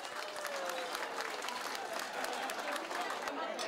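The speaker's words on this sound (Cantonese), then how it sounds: "俾啲掌聲" Audience at a school event with a lucky draw breaks into sustained applause, a dense even wash of clapping throughout, with voices mixed in.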